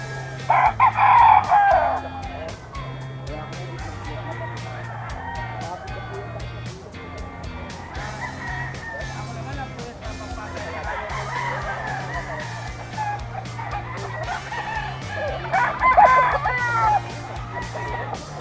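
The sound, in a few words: roosters crowing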